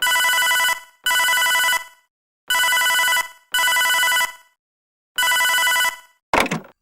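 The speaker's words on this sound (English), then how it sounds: "the phone rings." A telephone rings in five electronic bursts with short gaps between them, loud and close, and a short clattering knock comes right after the last ring.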